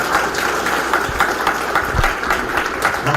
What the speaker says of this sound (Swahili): A round of applause for Waziri.